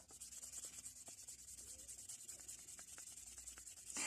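Sandpaper rubbing a rusty, scratched screwdriver at 800 grit, a steady rapid back-and-forth scratching, close and quiet, without speech.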